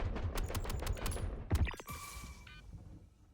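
Rifle gunfire in the Star Citizen video game, a fast rattling string of sharp shots followed by a couple of louder cracks, then a fading metallic ring and quiet hum.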